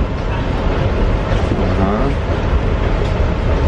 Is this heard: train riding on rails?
yes